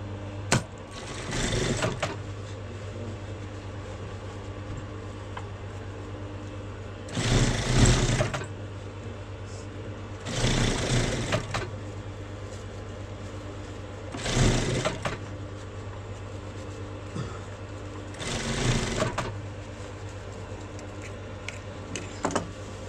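Sewing machine stitching trousers, running in several loud mechanical bursts of rapid stitching separated by pauses over a steady low hum.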